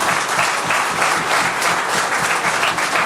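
Sustained applause from a large audience at a People's National Movement political rally in Marabella, Trinidad, a dense, steady wash of clapping throughout with no speech over it.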